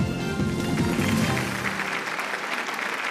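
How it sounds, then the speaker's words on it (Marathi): Audience clapping at the Zee Marathi Sankrant Queen 2018 contest show, a dense, steady wash of applause that holds evenly for about three seconds with no talk over it. "जोरदार टाळ्या होऊ द्या सगळ्यांसाठी।"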